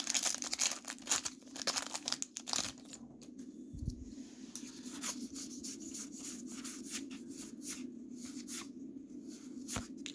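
Foil wrappers on Magic: The Gathering Core 2020 booster packs are peeled open close up. Sharp crinkling and tearing bursts come first, then fade into quieter rustling over a steady low hum.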